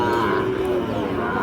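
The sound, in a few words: Sahiwal bull calf mooing at cattle market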